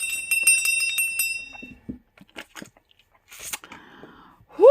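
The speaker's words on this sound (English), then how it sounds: "I am going to take a sip while I ring the bell" A small hand bell rings in a quick series of bright, ringing strikes, followed by quiet sipping and small handling sounds.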